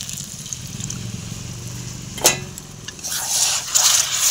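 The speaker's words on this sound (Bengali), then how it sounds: "এই দেখো সামান্য একটু জল দেবো," A small amount of water is poured into a pan of potato curry, a brief splash after a clink, then a close, steady trickling for about a second.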